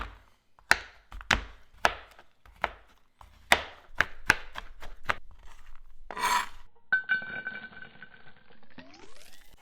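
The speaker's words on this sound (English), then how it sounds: "Then we're gonna chop up the chocolate." A knife chops chocolate for a s'mores dessert quesadilla in a run of sharp, close thwacks on a board, about a dozen spaced cuts. The chopping gives way to scraping and a rising mechanical whir at the end.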